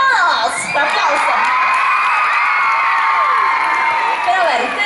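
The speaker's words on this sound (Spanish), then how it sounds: "¡Un aplauso!" A large crowd of children at a concert shouts and cheers, shrill high voices rising and falling in loud sustained screams that carry on without pause, with little distinct clapping.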